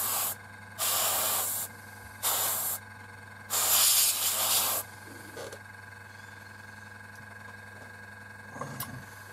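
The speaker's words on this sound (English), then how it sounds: "I'm spraying this with Humbrol 78 matte interior green acrylic" Airbrush spraying Humbrol 78 matte interior green acrylic paint onto a 1/72 scale Academy North American Mustang model: four loud bursts of steady hissing spray separated by pauses, then quiet background hum with a faint click near the end.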